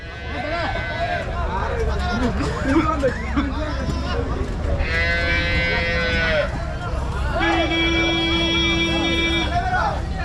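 Native cattle at a village cattle show low and moo in long drawn calls amid a busy outdoor crowd, with people talking and babble running underneath throughout.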